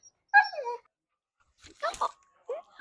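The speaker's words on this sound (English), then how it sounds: "She's the shop dog." A shop dog whimpers in short, high whining bursts indoors, the sounds coming in two or three separate spells with quiet gaps between them.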